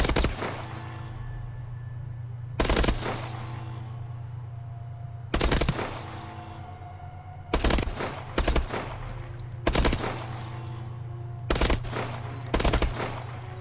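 Bursts of BAL-27 rifle fire on a Call of Duty Advanced Warfare firing range, loud and close, in short groups of a few rapid shots with pauses between, over a steady low hum.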